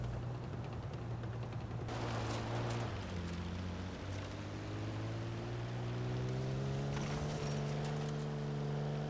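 The engine of a 1969 Toyota 2000GT in Forza Horizon 4 hums loud and steady, then climbs in pitch as it revs up, with sharp crackling pops of exhaust. There is no talking.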